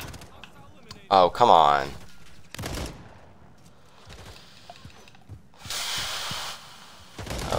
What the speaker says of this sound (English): That was a headshot.